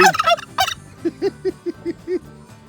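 Domestic turkeys gobble in a rapid series of rattling calls at the start, followed by a steady run of six or seven short, evenly spaced low clucks or yelps, fairly close and clear with no talking.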